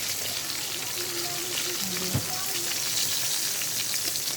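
Oil sizzles and crackles steadily as fish fries in a pan, with occasional sharper spits and pops over the constant hiss.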